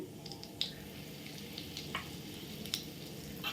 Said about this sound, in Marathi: तेल आता हे तापलेलं आहे आता आपण फोडणी करूया